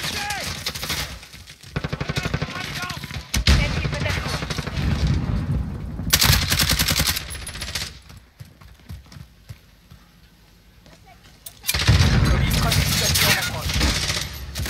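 Call of Duty Modern Warfare gunfire on the Khandor Hideout map, with rapid automatic bursts and clattering shots that come and go in loud stretches, mixed with in-game noise and players talking.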